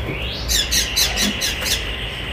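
A cockatoo in the Lincoln Park aviary in Polanco gives a series of harsh, raspy squawks, about five bursts in quick succession, fairly close and loud over a faint background.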